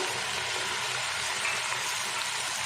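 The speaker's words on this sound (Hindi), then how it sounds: "चिकन को अच्छे से हमने फ्राई करना है 5 से 6 मिनट तेज़ आंच पे।" Boneless chicken fries over high heat in a pan with ginger-garlic paste, giving a steady, even sizzle that fills the short stretch with no voice over it.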